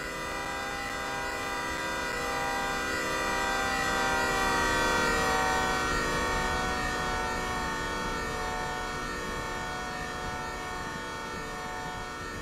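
In the Derail Valley train simulator game, a locomotive rolls past with a long, sustained horn-like tone over a steady rumble, loud and continuous, swelling and then easing slightly.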